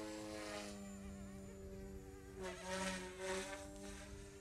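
A GOOSKY S2 RC helicopter doing pitch pumps gives a steady high rotor whine that rises and falls in pitch as it surges, heard from a moderate distance outdoors.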